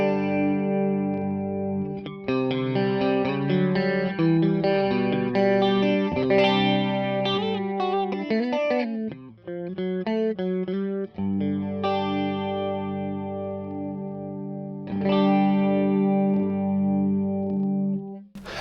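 Electric guitar through a Fractal FM9 modeler with a chorus effect, its width setting being adjusted; sustained, slightly driven chords shimmer and swirl continuously, loud and close, with no talking.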